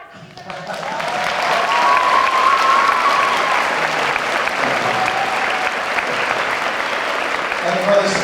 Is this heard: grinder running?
no